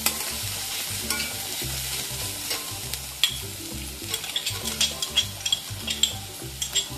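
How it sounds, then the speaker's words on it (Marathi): Ginger and garlic frying with onion in a pan for a masala, a close sizzle broken by frequent scraping stirs of a spatula, with soft background music underneath. "आता आपण आलं लसूण टाकूया"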